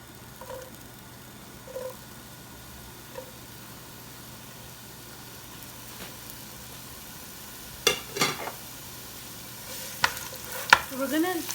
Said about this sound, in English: We're gonna fry these onions until they're a little golden brown.